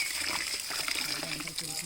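Water splashes and sloshes in a vessel as rice is washed and squeezed by hand, a brief close wet churning heard under a person talking.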